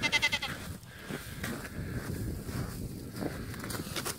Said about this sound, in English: Take down the boy goats here.